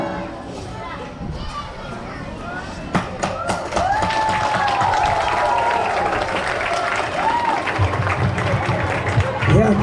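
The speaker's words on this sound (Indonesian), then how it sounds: "kita berikan aplaus untuk siswa-siswa kelas 7 ya" An audience at a junior high school National Teachers' Day event in Banda Aceh applauds seventh-grade students. Clapping and crowd noise swell after a few seconds and continue, mixed with children's voices.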